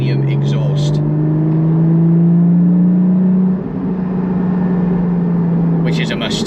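A Porsche Cayman 718 GT4 fitted with a JCR titanium exhaust revs up and holds a loud, droning engine note, then eases off slightly, close by with a voice at the start and end.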